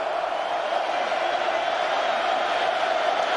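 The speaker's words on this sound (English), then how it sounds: "And here comes the Autzen crowd" Autzen Stadium football crowd at a Boise State vs Oregon game, a steady dense roar of many voices sustained throughout without any single voice standing out.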